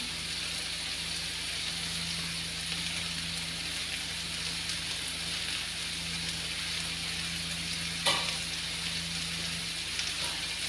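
Chicken and onions sautéing in a pan for sweet and sour chicken, a steady, even sizzle and hiss running throughout with a low hum beneath and one brief clink of a utensil near the end.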